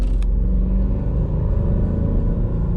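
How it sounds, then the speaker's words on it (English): A 2005 Mercedes S430 with its 4.3-liter V8 drives along the road, a steady low engine rumble and drone heard from inside the car, fairly loud and continuous with no talking. "Hear that V8."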